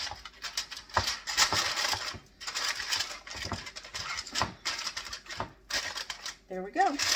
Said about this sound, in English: I'm using a heavy duty foil, kind of even it out.